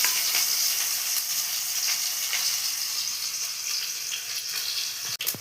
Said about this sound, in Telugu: ఆయిల్ వేడైనాక మనం ఉల్లిపాయలు వేస్తున్నాము.